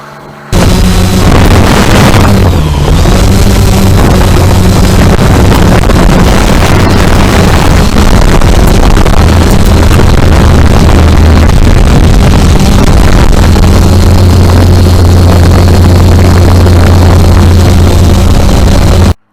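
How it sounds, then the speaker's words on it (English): An XK X-380 GPS quadcopter drone flies outdoors over a field with extended landing gear and bigger feet. Its loud, steady rotor buzz is close to the microphone, with heavy wind rumble and no talking. "Let's take the X-380 out around this field."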